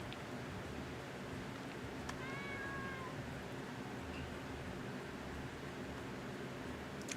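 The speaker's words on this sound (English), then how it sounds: "Oh, that's a sleeping cat." A cat meows once in a short, faint rising call early on, over a steady background hiss, with no talking.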